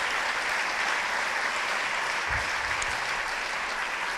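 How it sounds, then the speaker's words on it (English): Sustained audience applause for student reporters at an academic conference, a dense even wash of many hands clapping throughout with no pauses. "And a big applause for the student reporters."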